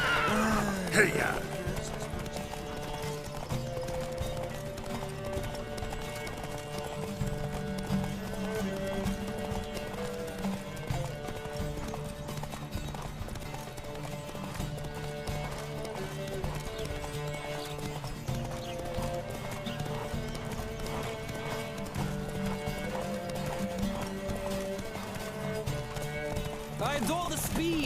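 Horses galloping in a race in The Witcher 3, a steady run of hoofbeats with the odd neigh, blended under continuous game music and voices throughout.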